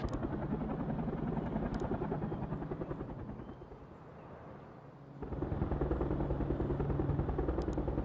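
A loud, steady helicopter rotor drone from the video game World in Conflict fills the clip, dipping briefly in the middle before surging back at full strength.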